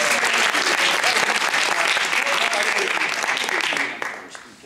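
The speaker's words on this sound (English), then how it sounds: "Let's give Kate a round of applause." Audience applause fills a room at an improv class graduation show, steady loud clapping from many hands that holds throughout before tapering off at the end.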